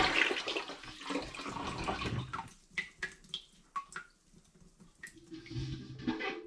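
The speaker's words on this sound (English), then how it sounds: "So it's safe to pour straight into the bucket." Tap water splashes and gurgles as it is poured into a bucket for a tomato paste wash, loud at first, then thinning into a few separate drips and trickles before pouring resumes.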